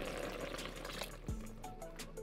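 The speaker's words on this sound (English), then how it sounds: "I'm gonna add 2 cups of water." A cup of water pours into a kimchi stew pot, a low steady splash and trickle that ends with a soft clunk, quiet and close by.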